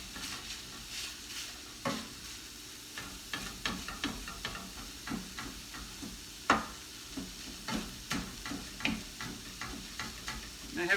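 Plant-based sausage and chopped parsley browning in a pan over medium heat, a soft continuous sizzle broken by frequent scraping stirs and clicks, close but fairly quiet.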